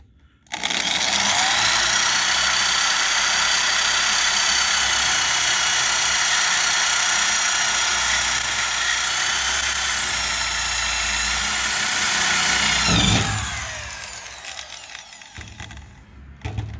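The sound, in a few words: power drill drilling sheet metal on a bus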